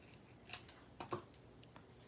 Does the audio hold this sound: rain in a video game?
no